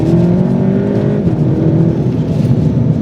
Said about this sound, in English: it's also still that kind of safe, sensible Vag Group exhaust that you expect, even though this is their most hardcore GTi